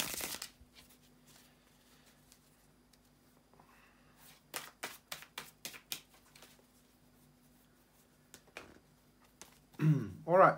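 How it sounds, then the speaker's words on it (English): A few quick papery flicks and riffles of cards, faint and close, scattered among quiet stretches, ending with a brief louder rustle. "bear with me a second, guys, to shuffle the tarot cards"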